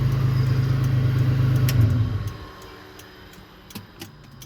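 A 1984 Mitsubishi Jeep with manual transmission idles with a steady low rumble for about two seconds, then drops away to quiet, leaving light ticking and small clicks close by.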